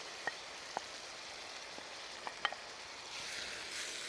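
Blitzed vegan sambal paste frying in a hot pan, a faint, steady background sizzle with a few soft clicks and taps scattered throughout; no talking.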